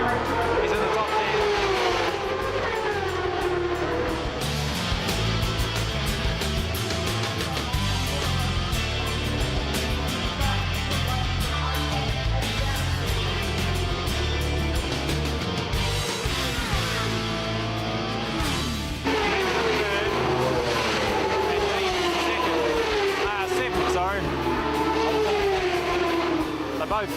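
Racing motorbikes screaming around a track, a dense continuous engine roar with rising and falling pitch as bikes pass, with a commentator talking over it throughout.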